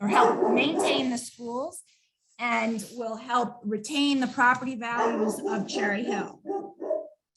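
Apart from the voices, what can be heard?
dog barking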